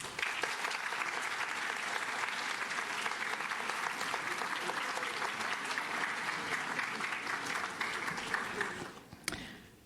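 Graduates at a pro bono recognition ceremony applaud their families, a sustained, dense clapping that fills the hall at steady loudness before breaking off abruptly near the end.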